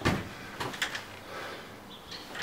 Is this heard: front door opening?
yes